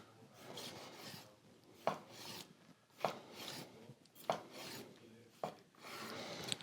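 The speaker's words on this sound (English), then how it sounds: "what you do now is just gently slice it up" A knife slices cooked North Sea squid on a cutting board, giving soft, close cuts with four sharper taps against the board at regular intervals and no talking.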